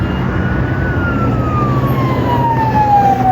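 An ambulance siren on the Thika Super Highway wails steadily in a slowly falling tone over loud, constant traffic rumble, with no talking.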